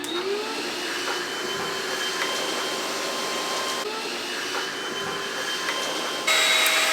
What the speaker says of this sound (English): I'm gonna do a little vacuuming